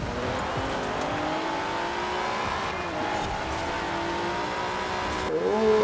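Alfa Romeo 155 racing in Forza Horizon 4, its engine droning steadily at high revs along a lap, with brief pitch shifts of gear changes and a sharp rev change near the end, moderately loud and without talk.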